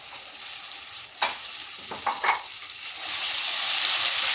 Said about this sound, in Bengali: আদা নহৰু পেষ্টটো দি মই এইটো লৰাই থাকিম